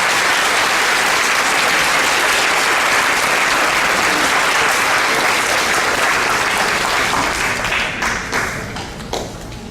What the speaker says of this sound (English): please join me as I applaud you all